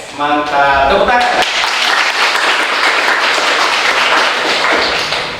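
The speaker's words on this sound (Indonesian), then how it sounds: "Tepuk tangan." Students in a classroom applaud together, a dense burst of clapping after a brief voice at the start, sustained and fairly loud, then tapering slightly at the end.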